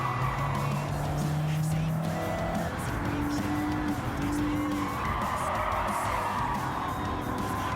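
A Toyota Sprinter Trueno with a black hood racing in Gran Turismo 7, its engine droning steadily with shifting pitch alongside tire squeal, loud and continuous throughout.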